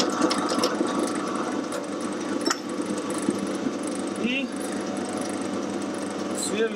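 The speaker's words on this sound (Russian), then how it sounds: "Сверлим отверстие." A 5 mm drill bit bores a hole about 8 mm deep into a part, giving a steady, close whine from the drilling machine throughout, with brief speech over it.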